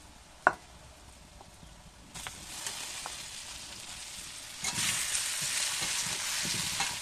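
Chicken pieces are dropped into a pan of hot oil with spices and Kashmiri chili powder. A faint clink comes first, then a quiet sizzle that swells into a louder, steady hiss, with a few stirring knocks and no talk.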